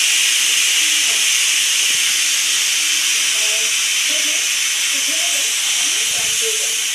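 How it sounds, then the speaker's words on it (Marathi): Steady high hiss of steam escaping a pressure cooker with eggs inside, loud and continuous through the whole stretch, with faint kitchen clatter and a voice murmuring underneath. "कुकर लावला आहे, कुकरला अंडी लावलेत"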